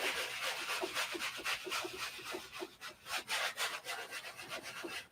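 A paintbrush scrubs paint onto canvas to form trees, a close, loud rhythmic scratchy rubbing in quick repeated strokes with no talk.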